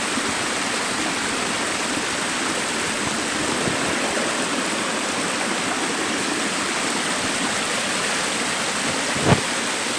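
A mountain stream on a hillside in the forest, water rushing and splashing in a steady, full, close roar that never lets up, with one brief sharp knock near the end.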